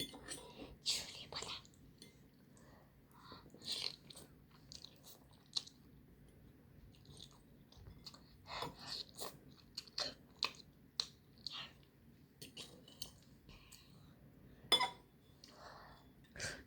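Someone chews and bites jjapaghetti instant black-bean noodles up close, producing soft, wet, irregular crunching bursts at low volume, with quiet whispering voices in between.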